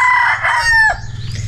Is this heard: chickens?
yes